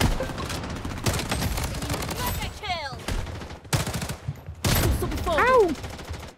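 Rapid bursts of automatic gunfire in the game Blood Strike rattle in repeated volleys, with a person's voice talking briefly in the gaps.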